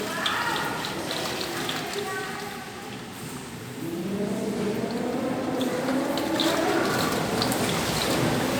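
Heavy typhoon rain pours steadily with a dense hiss, and faint talk and other background sounds drift beneath the downpour.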